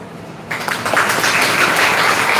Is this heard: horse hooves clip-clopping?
no